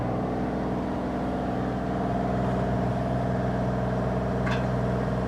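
A 2024 Bobcat E35R2 mini excavator engine idles in a steady, low mechanical drone, holding constant and close with no speech.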